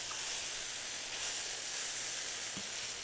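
Chicken pieces sauté in hot olive oil in a pan, giving off a steady, close, bright sizzle that hisses continuously with no talking.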